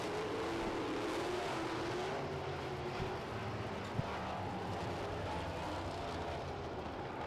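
Sprint cars roar around a dirt racetrack in a continuous, distant drone of engines, with the field's pitch shifting slightly as cars circle, and a faint sharp knock partway through.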